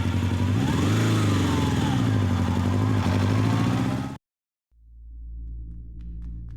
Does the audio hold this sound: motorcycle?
yes